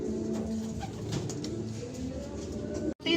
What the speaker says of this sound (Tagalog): Ito na mga kalapatids.